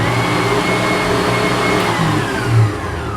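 A Cheflee 6 quart household stand mixer running on its pulse setting, a loud, close, steady motor whir and hum with a slight rise in pitch near the end.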